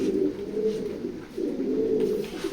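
Racer pigeons coo in soft, low, repeated phrases, close by, with brief pauses between the throaty calls.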